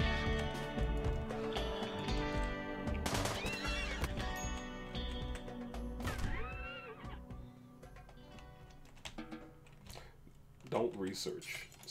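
A video game horse neighs loudly several times in drawn-out whinnies, with hoof clops and scuffling noises around them, close and busy.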